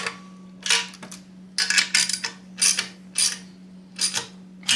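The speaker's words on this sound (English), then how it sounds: "Just want to make sure they're evenly tightened with the ratchet first." A ratchet tightens motorcycle exhaust bolts during an exhaust install on a Yamaha XSR900. Several short bursts of quick, close mechanical clicking are separated by brief pauses, over a steady low hum.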